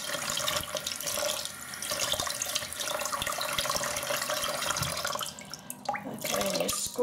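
Running tap water splashes steadily, with irregular sloshing and squelching as a horse hair shaving brush is rinsed under the stream, up close.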